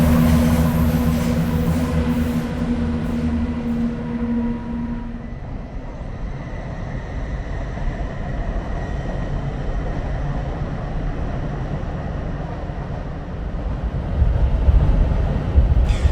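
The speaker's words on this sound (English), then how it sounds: "watch the trains come into Peterborough station" Steady low rumble of trains rolling into Peterborough station, with a brief tonal hum early on that fades into continuous heavy track noise.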